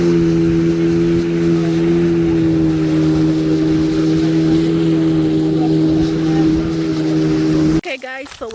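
A motorboat engine drones loud and steady during a river boat ride in Panama, a constant close hum that cuts off near the end, with talking over it.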